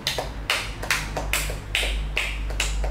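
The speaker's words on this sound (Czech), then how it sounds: "Děkuju za potlesk, byl vážný." Small audience clapping after a reading at a poetry day held in a brewery in Vinohrady, with loud, crisp bursts of claps arriving in uneven waves over a low room hum and no speech.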